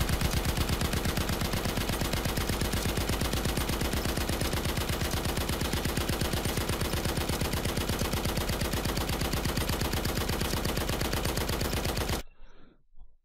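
Rapid, evenly spaced machine gun bursts from a game weapon effect in Unreal Engine 4, a dense unbroken rattle of shots lasting about twelve seconds before stopping abruptly into silence.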